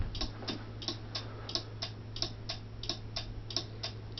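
Homemade railroad crossing lights click softly in a steady, even rhythm, about three ticks a second, like a quiet clock. The clicking continues alone over a low background hum.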